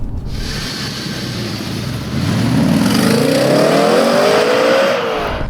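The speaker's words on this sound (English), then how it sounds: "That engine is so flexible, so gorgeous, and this car is really planted." An Audi B7 RS4 engine builds from a steady drone into a loud, rising rev as the car accelerates, the pitch climbing smoothly through the gears, close and clear with no talk.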